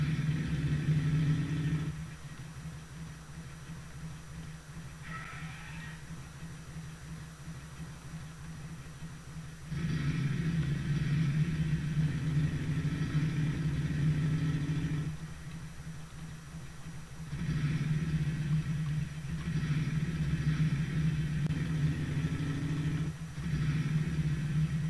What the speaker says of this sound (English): I like driving a motorbike